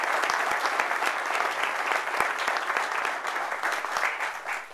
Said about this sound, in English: Give Bud a round of applause.